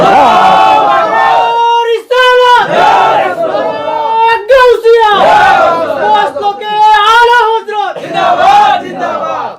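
A large religious gathering answers the takbir call with loud, repeated chanted shouts of Allahu Akbar, many voices rising and falling together in waves.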